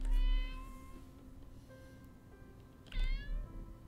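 Kitten meowing in the Copycat video game, two clear high-pitched meows, one at the start and another near the end, with soft game ambience between.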